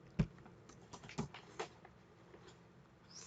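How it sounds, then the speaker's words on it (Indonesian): A few scattered keystrokes on a computer keyboard while typing JavaScript code, sparse quiet clicks with a couple of sharper taps and pauses between them, no talking. "Kita ketikkan"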